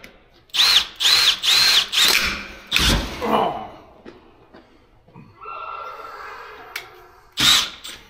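A power drill bores into metal in four short, loud bursts of high whine, each a second or so long, then a heavier grinding burst, a lull with faint rustling, and one final short burst.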